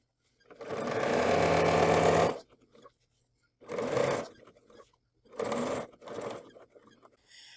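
A longarm quilting machine stitches down hook and loop tape in three loud bursts of steady mechanical whirring, a long run followed by two shorter ones, with quiet pauses between them.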